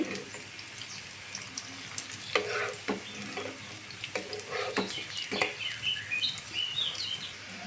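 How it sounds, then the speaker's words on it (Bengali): Soybean kebabs shallow-fry in a pan with a soft, steady sizzle, broken by occasional scrapes and clinks of stirring, heard close up and fairly quiet. "আমার এই কাবাবগুলো সয়াবিনের কাবাবগুলো ভাজা হয়ে গেছে"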